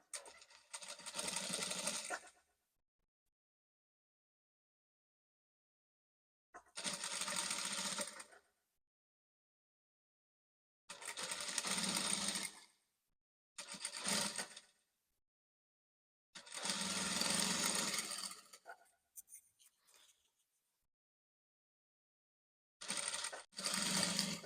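A sewing machine stitches a lace scallop neckline on a flare bubu dress. It runs in several separate bursts of steady whirring, each lasting one to three seconds, with quiet pauses in between.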